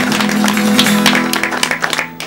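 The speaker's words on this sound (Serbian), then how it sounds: "Aplauz" Audience applause at a live Serbian television music show, a dense burst of clapping under a held musical tone that thins out into scattered claps by the end.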